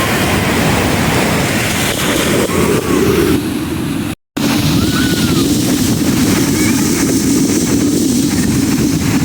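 Niagara Falls in the USA roars as a steady, loud, broadband rush of falling water, interrupted by one brief cut of silence midway, with faint tonal sounds drifting over the roar.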